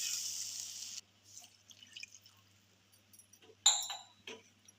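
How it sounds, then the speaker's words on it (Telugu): Water pours steadily into a pan of roasted wheat rava for upma for about a second, followed by soft clinks and small wet stirring sounds, close and fairly quiet. "ఒక కప్పు రవ్వకి 2 గ్లాసుల వాటర్ పోసుకోవాలి."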